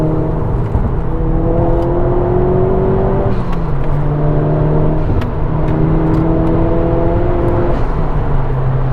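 A Ford Focus RS engine revs steadily with a droning whir while accelerating, pitch climbing, dipping at a gear change, then climbing again; heard from inside, loud and continuous.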